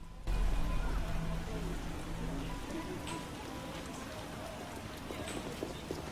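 Rain falls steadily in The Witcher video game, giving a continuous hiss of drops on surfaces with faint scattered taps and a low rumble underneath.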